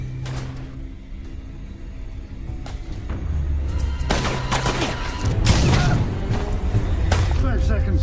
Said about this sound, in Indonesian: Di tengah tembak-tembakan itu, Running datang dan membantu Dove